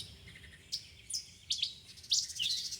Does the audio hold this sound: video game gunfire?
no